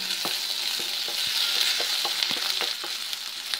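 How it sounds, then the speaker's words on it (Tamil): Ginger fries in a pan with a steady hiss of sizzling oil, punctuated by a series of light stirring clicks and scrapes at irregular intervals throughout. "இப்போ இதை கூட இஞ்சி போட்டுடுறேன்"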